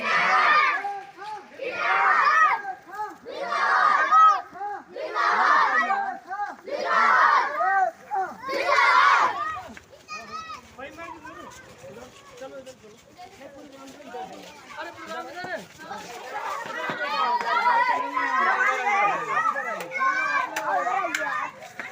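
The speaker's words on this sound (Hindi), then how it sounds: "बहुत भीड़ है भाई, बहुत भीड़ है।" Large outdoor crowd with many children shouting and chattering, rhythmic bursts of chanting at first, then a continuous noisy swell of overlapping voices, close and loud.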